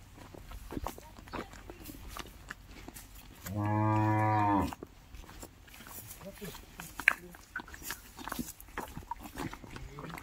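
A single loud, drawn-out moo from a bull, lasting about a second, with people talking and faint rustling around it, at a bull-pair sale in Barshi, Solapur.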